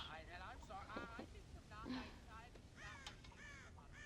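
Crows caw in Red Dead Redemption, several harsh repeated calls near and far in a windy outdoor scene, with faint voices in the mix.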